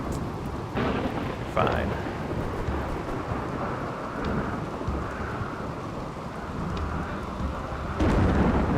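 Rain and thunder in the video game RimWorld: a steady hiss of rainfall with deep thunder rumbles near the start and again at the end, and a brief spoken word over it.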